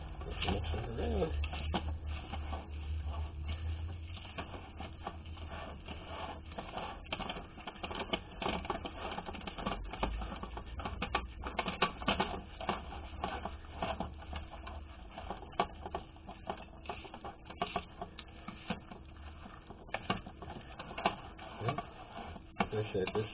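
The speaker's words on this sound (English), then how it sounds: "Good old-fashioned fork. Just mix it around." A fork working through ground meat for a stovetop Salisbury steak, producing a fast, steady run of clicking and tapping against the bowl that continues without pause.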